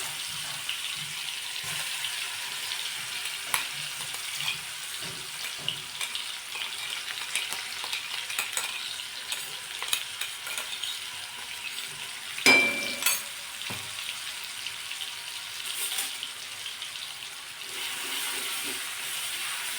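Ground chili, garlic and ginger paste frying in hot oil over a mustard seed and asafoetida tempering for potato aloo vadi, a steady close sizzle with stirring scrapes and one louder clatter midway, no voices.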